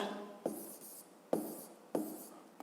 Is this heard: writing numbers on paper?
yes